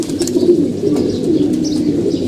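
Pigeons cooing continuously in a loft, low rolling coos overlapping loudly and close, with faint chirps from other birds in the background and no speech.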